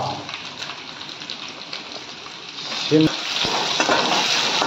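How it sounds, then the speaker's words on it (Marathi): Bell pepper stir-frying in a hot pan for fried rice, a steady close sizzle with a sharper clatter near the middle as the vegetables are moved, no voices heard. "आणि आता टाकूया आपण शिमला मिरची, थोडंसं भाजलं आणि हे टाकले शिमला।"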